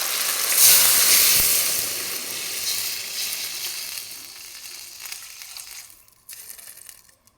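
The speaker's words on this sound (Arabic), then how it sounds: "هنا نحمس الدجاج" Chicken pieces sizzling loudly in a hot pan with spices, a dense bright hiss that gradually fades and thins toward the end.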